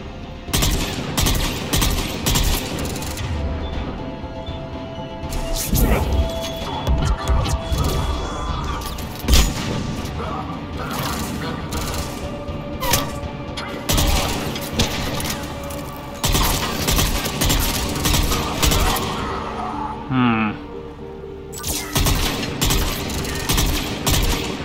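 Sustained gunfire from several weapons in Mass Effect 3 as squadmates lay down covering fire, dense bursts of rapid shots and crashes repeating throughout with brief lulls, loud and close.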